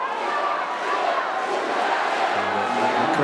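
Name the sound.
crowd roaring at women's water polo match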